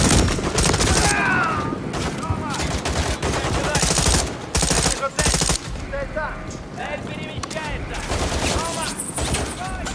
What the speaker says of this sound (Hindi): ये मशीन गन लेके आ रहा बंदा